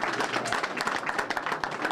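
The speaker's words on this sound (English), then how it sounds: "let's give Kiki a huge round of applause." Applause from an audience at the opening of a community teen center in Boston, fairly faint and slightly distant, with individual claps standing out in a steady patter.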